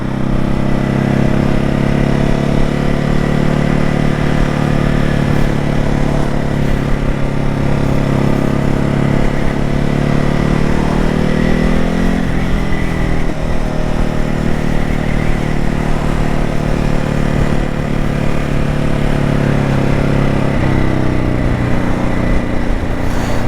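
A 2021 Ducati Hypermotard 950 SP engine on the move, a loud, dense, unbroken drone with slight pitch dips and rises as the throttle changes, wind rushing over the microphone and no voices.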